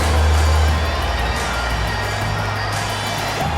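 A large NBA arena crowd cheers and applauds the Boston Celtics steadily at a game against the Dallas Mavericks, a loud continuous roar of voices and clapping.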